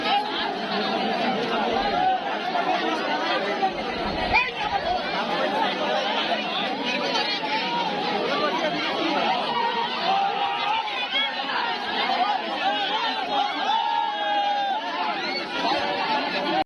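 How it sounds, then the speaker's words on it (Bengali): A dense crowd pushes into a temple on Dol Purnima in Bangladesh, a continuous close babble of many voices and shuffling with no pauses. "আপনারা সকলেই দেখতে পেলেন যে কি পরিমাণ ভিড় ঠেলে তারপর মন্দিরের ভেতর প্রবেশ করতে হচ্ছে"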